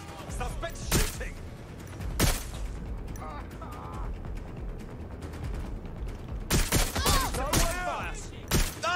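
Gunfire in the video game Watch Dogs Legion: a few sharp shots at about one and two seconds, then a denser burst near the end, over a busy game soundscape with voices.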